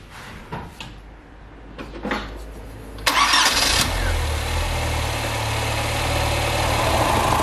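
A Škoda Felicia engine, just back from an alternator repair, cranks briefly after a few clicks and knocks, then catches and settles into a steady, fairly loud idle.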